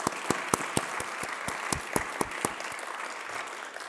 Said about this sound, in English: I actually want a round of applause for all the librarians who worked so hard to get this done.